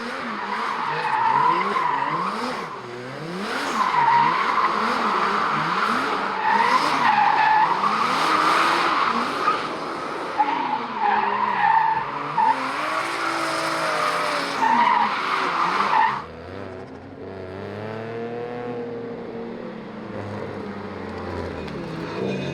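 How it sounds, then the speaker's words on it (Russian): A drift car with newly fitted pipes on a small test lot in Japan, with loud, sustained tire squeal and revving engine sweeping up and down for about sixteen seconds before dropping to a lower engine drone. "нам сейчас разрешили чуть-чуть вот там вот на пятачке потестить наш автомобиль, наши пайпы"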